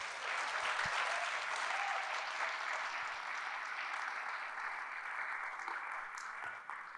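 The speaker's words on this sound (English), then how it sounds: "Please give them a round of applause." A crowd at an African literature festival applauds steadily, a continuous even wash of clapping at moderate volume that holds throughout.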